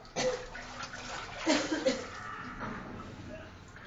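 A child splashes water during a bucket bath, with intermittent sloshing and pouring close by as voices talk over it.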